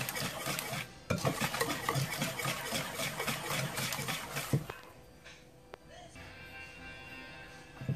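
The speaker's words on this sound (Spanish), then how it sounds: "El aceite, seguimos mezclando" Chocolate cake batter with oil is stirred in a bowl, with brisk scraping and utensil clinks for about five seconds that then fade to a quieter background.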